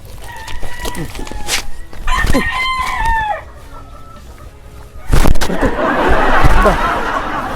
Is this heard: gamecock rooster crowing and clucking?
yes